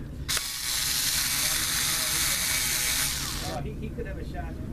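An electric screwdriver backs screws out of a Dell Latitude 6440 laptop, giving a close, loud, steady whir of about three seconds that then stops, followed by faint clicks.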